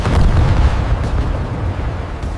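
An animated artillery salvo explodes in a deep, rumbling boom that rolls on and slowly fades, loud and without voices.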